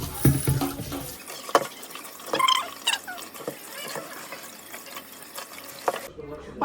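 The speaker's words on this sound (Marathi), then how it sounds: "मासा धुवायचा आता, धुवून स्वच्छ करायचा." Pomfret fish being washed with water, giving close splashing and sloshing with a running-water wash and scattered handling clatter that ends abruptly near the finish.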